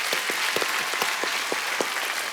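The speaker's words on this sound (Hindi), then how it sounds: "तालियां बनती हैं भाई आपके लिए।" Studio audience at a comedy talk show breaking into applause, a dense, continuous patter of many hands clapping at even loudness for a couple of seconds.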